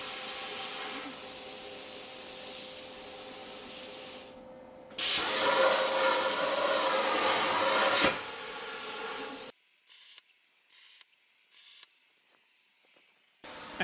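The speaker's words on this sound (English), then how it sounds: "then I can turn on the plasma cutter." Plasma cutter cutting a row of holes in metal: a steady, loud, hissing spray that runs for several seconds, followed by a string of short separate hissing bursts with silent gaps between them.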